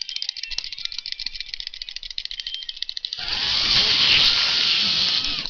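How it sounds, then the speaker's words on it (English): Rapid plastic clicking from game controller buttons being mashed rattles steadily at close range, then gives way to a loud continuous buzzing whir for the final couple of seconds. "Button mashing."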